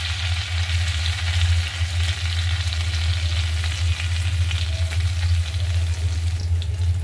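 Cumin seeds and a broken cinnamon stick sizzle in hot oil in a pan, a continuous close crackling hiss over a steady low hum from the stove or a fan, with no one talking.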